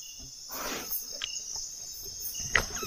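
Small crickets among garden plant leaves at night give a thin, steady high-pitched chirring, with faint rustles and a couple of brief louder clicks nearby.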